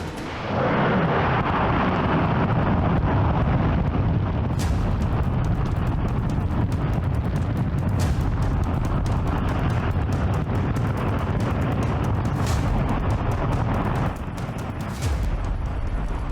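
A NASA J-2X rocket engine fires during a 125-second test at a lower power level. It gives a continuous, loud, roaring blast with crackling bursts that lasts throughout.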